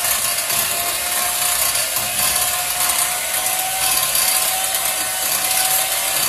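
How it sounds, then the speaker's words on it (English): A small electric hand mixer beating candied yam mixture whirs steadily on a low setting, a continuous mechanical buzz with a faint rattling texture and no talking. "Now, I'm not beating this on high. As you can tell by the sound, this is a pretty low setting."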